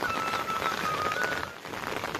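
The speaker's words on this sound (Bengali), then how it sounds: "প্রচণ্ড বৃষ্টি হচ্ছে এখানে" Heavy rain pours steadily through a mangrove forest along a wooden walkway at Bakkhali, a dense continuous hiss of drops that eases slightly toward the end.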